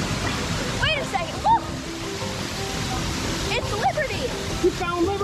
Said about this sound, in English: Look at that giant waterfall.